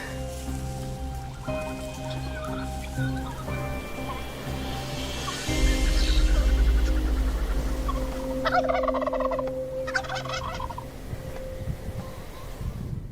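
Wild turkeys gobbling in a large flock, repeated loud gobbles rising over steady wind and outdoor rumble, with bursts of overlapping calls clustered near the end.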